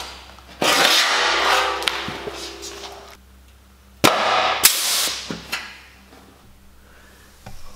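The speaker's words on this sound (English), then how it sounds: "this one's got a hole punch" An edge setter tool with a hole punch drives through steel stock, producing sharp metallic bangs and clunks with noisy bursts between them, close and loud.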